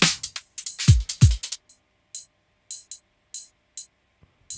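Soloed ride cymbal sample hits in an electronic beat, each strike given a different fade length; a few low thumps early on, then sparse, evenly spaced bright pings with silence between them.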